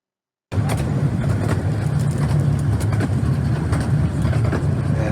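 A steady, loud rumble of a train in motion begins abruptly after a moment of silence, with faint rhythmic clatter running underneath throughout.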